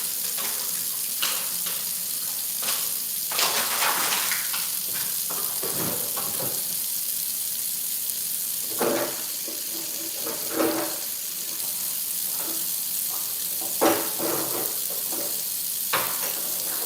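Water poured into a hot pan hisses and sizzles in bursts over a steady background of running, bubbling liquid, with no talking.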